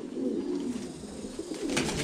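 Pigeons coo steadily on a pigeon farm in daytime, a dense, continuous low murmur of many birds close by with a few brighter calls near the end, no talking.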